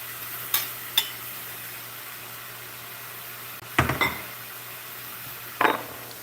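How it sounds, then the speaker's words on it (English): Peeled, deveined frozen shrimp stir-fry in a pan, making a faint steady sizzle with a few sharp utensil clinks and scrapes spaced apart. "And let's go ahead and add our shrimp in."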